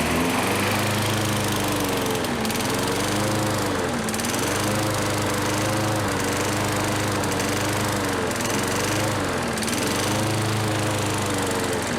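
Revived Craftsman lawn mower engine running steadily, a loud, constant close-up drone with a slight rhythmic waver in pitch, no voices over it.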